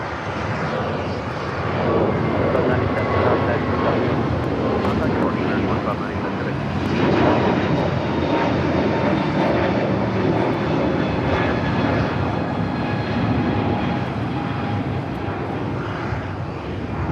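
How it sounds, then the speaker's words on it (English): An Aloha Air Cargo converted Boeing 767, arriving from Seattle, touches down at LAX with a loud, rough roar that swells in the middle and stays strong, while a voice talks over it. "Just had Aloha Air Cargo, converted 767. Coming from Seattle, just touching down."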